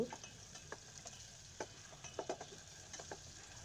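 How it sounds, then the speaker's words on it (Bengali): Onion and garlic fry in hot oil, a faint low sizzle broken by scattered soft clicks and taps of a spatula against the pan, with no voices. "আমি তেলের ভিতর পেঁয়াজ রসুন এগুলো দিয়ে দিচ্ছি"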